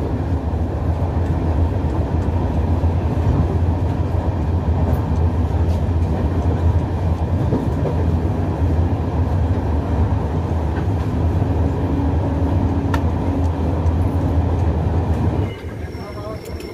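The Howrah–Hatiya Kriya Yoga Express rumbles steadily along the tracks at night, a loud continuous roar with faint clicks and wheel noise that drops slightly near the end.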